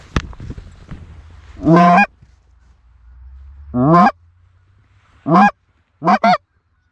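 Canada geese honk in flight during a September hunt for resident birds, with four distinct loud calls spaced apart over a low steady hum, nearby and clear.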